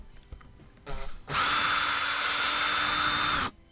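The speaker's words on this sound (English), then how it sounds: "then I just complete drilling all the way through" A power drill bores all the way through a 2x4 in a hammock stand build, a short burst then a steady, loud high-pitched whine lasting about two seconds before cutting off.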